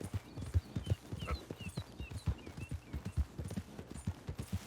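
Horse hooves clip-clop at a steady walking rhythm in Red Dead Redemption 2, close and fairly loud with a faint whinny-like tone, no talking over it.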